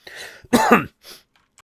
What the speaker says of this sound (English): Still got a real bad problem with my cough